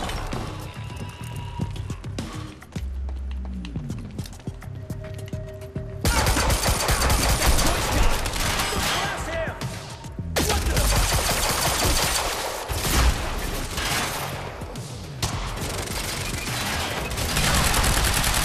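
Shotgun and other gunfire in the video game Quantum Break, with dense, loud bursts of shots and crashes that keep going almost nonstop after a quieter opening few seconds.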